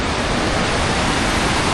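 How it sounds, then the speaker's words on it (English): Rapid river water rushes steadily near a waterfall in Croatia, a loud, unbroken broadband roar with no pauses or voices. "The waters are more rapid on one side"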